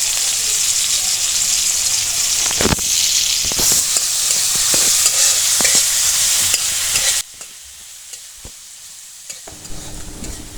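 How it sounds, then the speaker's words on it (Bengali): Green chilies and onions frying in a pan: a loud, continuous sizzle broken by stirring scrapes, dropping to a much quieter crackle for the last few seconds. "এই যে কাঁচা লঙ্কা এবং পেঁয়াজ ভেজে নেওয়া হচ্ছে"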